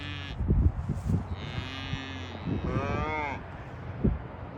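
Cattle moo repeatedly in a farm barnyard, several drawn-out lowing calls from nearby animals overlapping one another, with short bursts of farm noise between them.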